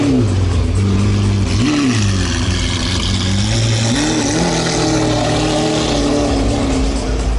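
A Singer-modified vintage Porsche sports car revs up and down several times nearby, its engine note rising and falling in loud swells over street noise.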